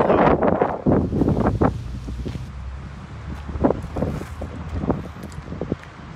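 Strong outdoor wind buffets the microphone near a tidal water current, with gusty low rumbling surges that rise and fall throughout and no talk over them.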